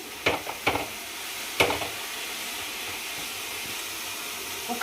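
Mint leaves stirred and fried in a pan for a roti pachadi chutney: a soft, steady sizzle with three or four distinct spatula scrapes near the start.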